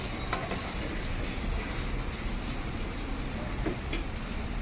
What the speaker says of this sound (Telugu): ఇక్కడ బోన్లెస్ మటన్ ఫ్రై అవుతుంది కదా